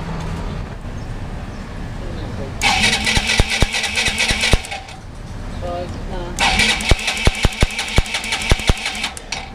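A Kymco Dink 150 scooter engine cranks in two separate bursts of rapid starter churning, close and fairly loud, without catching, with quieter pauses between the attempts.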